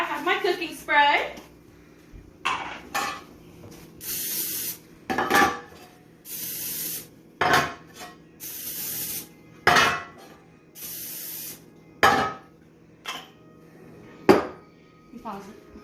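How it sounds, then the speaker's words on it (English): Cooking spray hisses in repeated short bursts onto four mini loaf pans, about eight spurts spaced a second or two apart, with a voice heard briefly at the start. "So I have my cooking spray."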